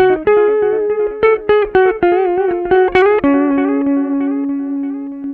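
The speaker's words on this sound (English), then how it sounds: "So, let's see, we could throw some delay." Electric guitar played through the Ammoon Pockrock's delay effect: a run of picked notes and chords, close and loud, each one trailing into repeats before settling on a long sustained note.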